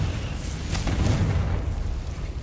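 A Confringo blasting spell explodes in the video game Hogwarts Legacy, a short low rumbling boom with a brief burst of crackle, heard alone and fairly loud.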